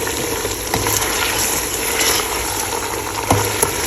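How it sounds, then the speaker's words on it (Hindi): Ginger garlic paste fries in a pan over a medium flame for a chicken curry, giving a steady, fairly loud sizzle with light crackle and a few sharper spatters, with no one speaking. "मैंने इसमें अदरक लहसुन का पेस्ट डाल दिया है और फिर हम इसको अब दोबारा भूनेंगे"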